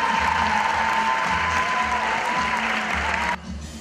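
Parents applauding their children's Christmas performance, a dense clapping crowd with a sustained tone and low rhythmic musical beat beneath, cutting off sharply near the end.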